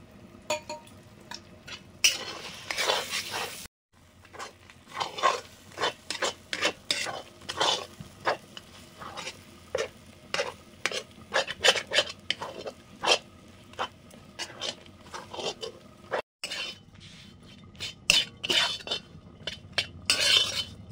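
Moong dal paste with ginger and green chilli stirred in a hot pan: brisk, rhythmic scraping strokes with light sizzling, near and fairly loud, continuing almost without pause.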